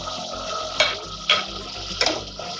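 Whole spices, among them black cardamom, a few cloves and black peppercorns, fry in hot oil with a steady close sizzle. A few sharp scrapes of a spoon stirring against the pan punctuate it.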